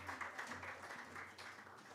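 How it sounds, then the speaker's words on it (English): Audience applause at a youth sustainability conference, a faint, brief patter of clapping from a crowd heard at a distance. "Round of applause for her as she comes"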